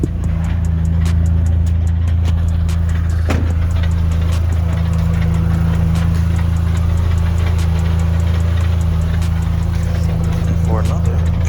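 A lifted Dodge SRT4 drivetrain runs in gear, giving a steady loud mechanical drone with a strong low hum and faint knocking and rattling throughout, close to the car, with a person talking over part of it.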